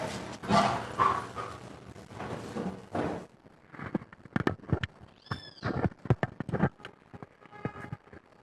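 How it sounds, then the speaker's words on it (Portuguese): A dog barks in irregular bursts close by, the barks mixing with a few drawn-out whining or howling tones partway through. "Às vezes eu não conseguia acreditar como é que um cachorro latia tanto."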